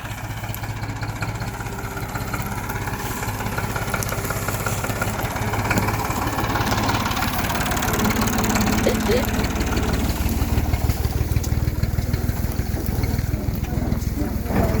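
A tractor engine idles through the whole stretch, a steady low rumble with a faint throb that builds slightly louder midway, while people talk and laugh nearby.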